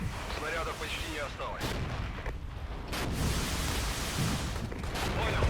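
Artillery fire in the Cold War Soviet battle game Regiments, a dense rolling rumble of distant gun blasts and impacts with a few sharper cracks, continuous and loud throughout.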